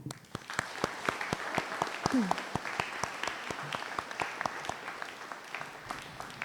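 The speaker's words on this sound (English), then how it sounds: "Class of 2024, join me in giving them a round of applause." Audience at the Palau Mission Academy 2024 graduation ceremony bursts into steady, dense applause, many hands clapping together at close range for several seconds.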